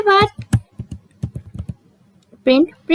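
Python code being typed on a computer keyboard: quick, irregular key clicks scattered through the moment, with a nearby voice speaking in short bursts over the typing.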